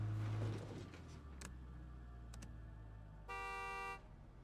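In the video game State of Decay 2, an ambulance horn gives one steady, buzzy honk of under a second near the end, faint and alone after a brief rumble, with a couple of tiny clicks before it.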